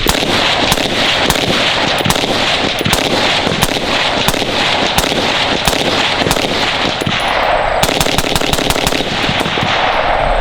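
Rapid strings of suppressed gunshots from a 10.3 inch rifle fitted with a SureFire RC3 suppressor, loud sharp cracks fired in quick bursts with a fast final volley near the end, no talking.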